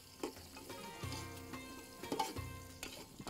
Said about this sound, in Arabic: هذا الزيت لين يحمر البصل